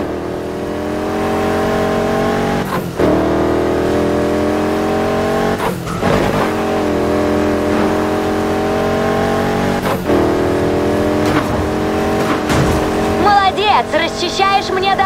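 A car driving in the racing game Need for Speed Heat, its engine droning steadily with smooth shifts and brief revs and drops, loud and close, ending in some clattering.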